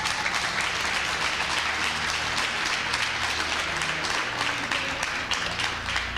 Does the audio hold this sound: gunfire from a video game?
no